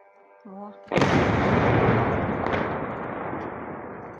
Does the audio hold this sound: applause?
no